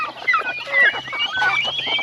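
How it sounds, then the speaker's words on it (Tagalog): Young native chicken chicks being raised on a free-range farm, giving a quick run of high, close peeps and soft clucks over two seconds. "Ito yung mga sisiyo ng mga native na manok na pinapalaki pa lang."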